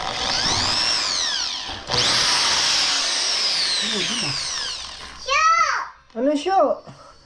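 A power drill whines in long bursts, speeding up and winding down, followed by a voice speaking and babbling.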